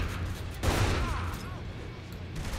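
A burst of gunfire in the video game Saints Row: The Third, a rapid fusillade of shots sounding slightly distant and soft, followed by a quieter stretch.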